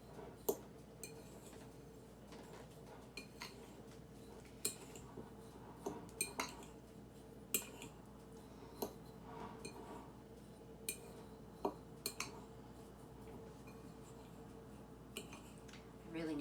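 Black pepper and seasonings are stirred together in a small bowl, giving scattered light clinks and taps of a utensil against the bowl at an irregular pace, fairly quiet and close.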